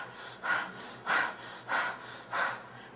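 A person pants rapidly during an anxiety breathing exercise, taking four evenly spaced, breathy rushes of air in quick rhythm, close and fairly soft, with no talking.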